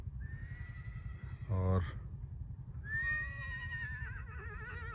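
A mare in training neighs: a long, wavering whinny with a brief snorting burst in the middle, then a second shrill whinny that trails off, over steady low rumbling background noise with someone speaking quietly.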